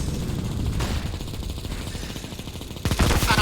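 Double Negev machine guns firing in CS:GO on the Inferno map during a tournament match, heard as dense rapid gunfire running throughout, with a louder burst near the end.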